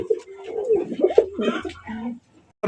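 Pigeons coo close by: a few soft, low, throaty calls in quick succession.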